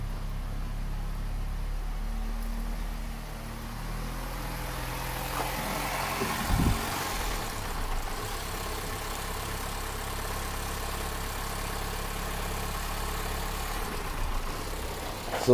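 The engine of an Opel Combo with a stuttering, rough-running fault idles steadily with a low, constant hum and a brief rise near the middle before settling back, heard close up with no talk.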